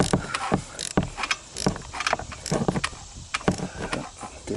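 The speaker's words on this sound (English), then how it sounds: "that's a 14 millimeter bolt, and it's what holds the flywheel on. And I'm turning it" A 14 mm flywheel bolt on an abandoned Tao Tao Bull 150 ATV being turned by hand, rotating the engine, giving uneven ratcheting clicks and mechanical clunks close up with soft scraping between them.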